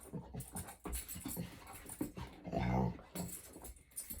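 A dog panting and whimpering eagerly to play, close by, with quick breathy pants and a brief high whine mid-way, some faint voice-like sounds mixed in.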